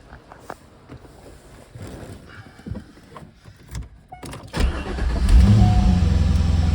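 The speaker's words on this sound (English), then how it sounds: "Engine starts right up." A 2001 C5 Corvette with the LS1 V8 cranks briefly and catches, then settles into a loud, steady idle close by, preceded by clicks and rustling in the car.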